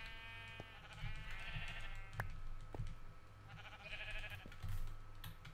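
Sheep in the video game Minecraft bleat twice in wavering, nasal calls. Faint clicking sounds are scattered underneath, and a low background hum runs throughout.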